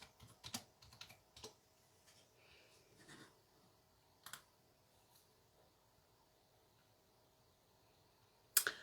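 Someone types on a computer keyboard, faint and close. Scattered short clusters of key clicks are separated by quiet pauses, and a sharper click comes near the end.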